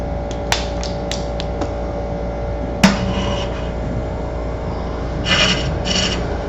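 A ball gouge hollows out a wood piece spinning on a lathe: a steady machine hum carries sharp ticks, one louder knock and brief raspy bursts of cutting and scraping.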